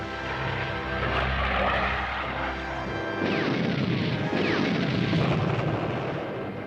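Propeller-driven UN military planes take off from a Korean War airstrip, a loud, steady engine drone that shifts in pitch as the aircraft pass, with rumbling noise around it.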